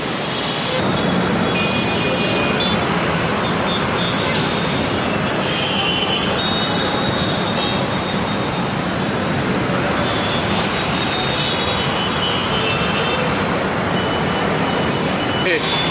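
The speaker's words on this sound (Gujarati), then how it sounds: "મિત્રો આપણે મેટ્રો ટ્રેન આવવાની તૈયારી જ છે હવે" A metro train pulls into Gundavali station in Mumbai, a steady, loud rumble of rail and traffic noise that holds for the whole stretch, with a voice talking over it.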